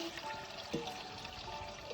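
Water being poured into a Pythagoras cup, a soft continuous trickle with faint splashing, heard close and quiet with no talk.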